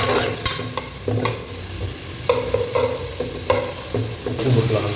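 Cinnamon, cloves and cardamom frying in oil, a continuous soft sizzle with intermittent scraping and clinking of a spoon stirring the pan, close and moderately quiet.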